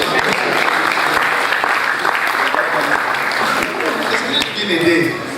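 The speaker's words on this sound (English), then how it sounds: "a round of applause for this one" At the 20th ASN Annual Scientific Conference and General Meeting, a hall audience applauds loudly and steadily, with sharp individual claps cutting through a dense roar and voices mixed in underneath.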